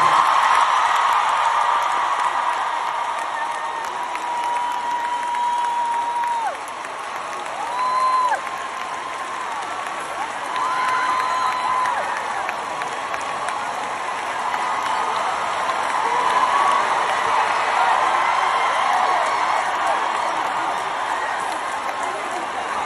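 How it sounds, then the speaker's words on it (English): A huge concert crowd at Madison Square Garden applauds and cheers in a sustained loud roar for over twenty seconds, with whistles and shouts rising and falling throughout the arena. "Join me in a round of applause for 70 years of service."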